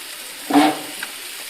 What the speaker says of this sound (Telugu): కలుపుకున్న తర్వాత ఆనపకాయ ముక్కలు వేసుకోవాలి